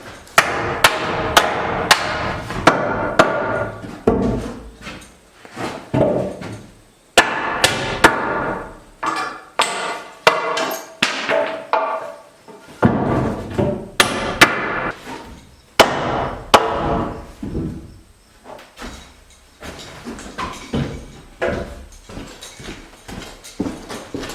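Indoor framing work: a hammer strikes wooden braces in loud, close bursts of sharp blows while nails are pried and pulled out, with short pauses between the rapid volleys.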